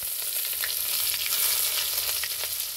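Onions frying in hot oil in a home kitchen, a continuous close crackling sizzle with scattered pops and light stirring, no voices.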